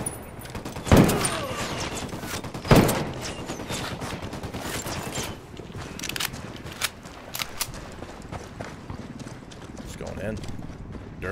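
Two sharp hip-fire gunshots in Ghost Recon Wildlands, spaced about two seconds apart and standing out over a steady bed of game noise and movement.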